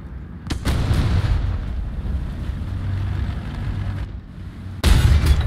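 In the War Thunder tank battle game, a heavy cannon blast booms near the start and another loud shot lands at the end, with a steady engine and wind rumble between them and no talking.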